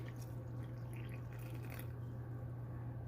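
Warm water poured from a cup into a jar of homemade bread mix, a soft steady trickling and dripping running close up for about three seconds over a low constant hum.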